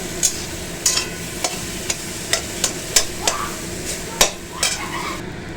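Brinjal frying in a pan for bharta, a soft sizzle under repeated sharp clicks and scrapes of a utensil stirring against the pan at an uneven pace.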